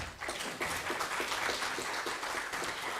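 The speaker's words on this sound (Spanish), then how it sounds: "Un fuerte aplauso para él." Steady applause from an audience at a formal judicial lecture event in Cajamarca, dense continuous clapping held at an even level throughout, close and moderately loud.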